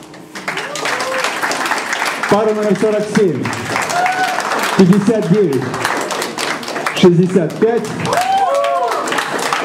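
Spectators at a hustle dance championship clap steadily as couples take the floor, the applause running under an announcer calling out numbers, with bursts of music-like tonal swells breaking in between.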